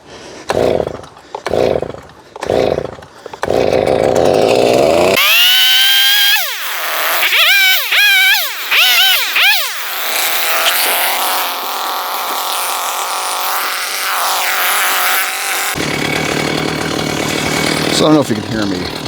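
A chainsaw cuts a shagbark hickory log away from the root ball of a tree uprooted by a hurricane. The engine blips in short revs, then runs at a loud sustained high whine with rising and falling pitch under load, close by.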